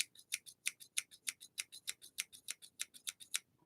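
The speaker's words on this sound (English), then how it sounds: "So like the sound of scissors," Close, crisp scissors snip in a quick, steady rhythm, about twenty sharp cuts over a few seconds in a quiet room, with no voices.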